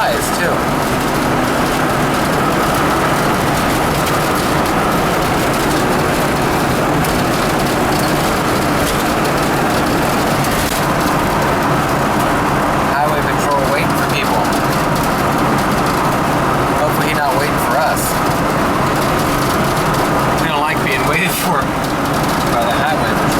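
A vintage Ford F-250 Class C motorhome with a 300 straight-six (4.9) cruises on a freeway, its engine drone and road and wind roar steady throughout, with someone talking over it.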